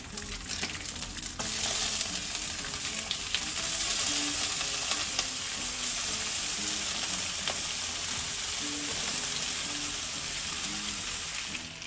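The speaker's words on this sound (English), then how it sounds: "Let these fry up a little bit. We'll flip them over, get them nice and crispy" Beef bacon strips fry in a pan with a loud, close, continuous crackling sizzle that swells after the first moment and holds steady, with faint occasional pops and clicks.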